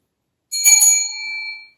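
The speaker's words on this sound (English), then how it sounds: "And of course the bell is for Clementine" A small table bell used to call whoever was waiting table is struck once, giving a bright metallic ding that rings out and fades slowly over about a second in an otherwise silent room.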